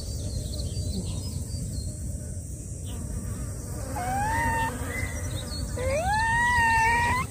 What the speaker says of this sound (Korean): 파리들은 어디서 이렇게 냄새 맡고 오는 거야?